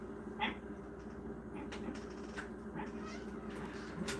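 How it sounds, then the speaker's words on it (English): A domestic cat meows several times indoors, short and fairly faint over a steady low background hum, with no talking. "That was a cat. That was another cat."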